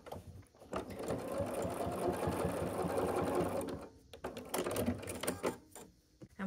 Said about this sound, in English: You could hand sew this closed or you can top stitch around the whole thing to close it, and that's what I'm going to do